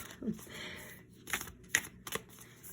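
Tarot cards riffle and snap in a few quick bursts, close up, with short pauses between shuffles and a soft voice briefly in the background.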